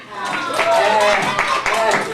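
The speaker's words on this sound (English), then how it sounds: "take a big clap for the audience" A live audience at a jester's show claps in a steady stream of applause, with voices mixed in under the clapping.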